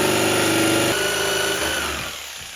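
Electric jigsaw cutting skirting board, a loud continuous buzzing rattle that drops in pitch partway through and fades as the cut finishes.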